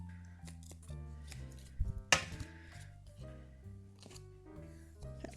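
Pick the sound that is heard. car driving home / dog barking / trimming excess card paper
trimming excess card paper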